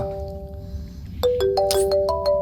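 A phone ringtone plays in a quiet room, first a steady sustained tone, then a brighter melodic sequence of chiming notes that rings on without being answered.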